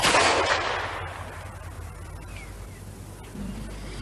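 A double-barreled percussion cap muzzle-loading gun, made in London by Charles Lancaster in 1853, fires one loud, close report at the start, followed by a long rumbling echo that fades away.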